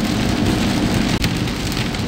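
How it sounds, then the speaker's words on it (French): Steady rain pours outside a parked camper van on the second day of wet weather, a dense, even hiss that fills the clip without pause and with no voices. "ça fait 2 jours qu'il pleut"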